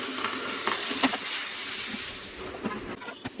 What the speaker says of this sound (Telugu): మార్నింగ్ మళ్ళీ మీకు చూపించడం కోసం దోశ వేస్తున్నాను.